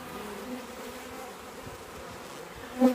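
Honeybees from a package being shaken down into a hive, a dense continuous buzzing swarm, fairly faint and even, with a slight bump in loudness at the end.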